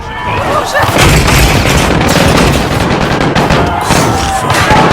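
Loud, dense bursts of gunfire in Call of Duty: Modern Warfare crackle continuously, overlapping with explosive booms in a chaotic barrage.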